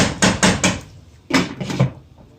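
A metal lid is set on a cooking pot of aloo gobi, giving a quick run of four sharp clinks, a short pause, then a few more rattling knocks, close and clear with no talking.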